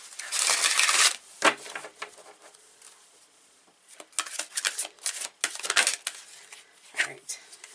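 Soul Coaching oracle cards being shuffled by hand in close bursts of papery riffling and slapping, with quiet pauses between the rounds of shuffling.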